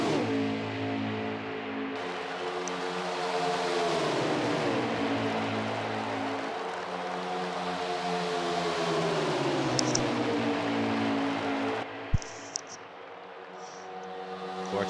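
Several race cars run in a tight single-file draft at Daytona in a racing video game, a steady, loud engine drone with shifting pitch that sweeps down and back up, with a brief sharp click near the end.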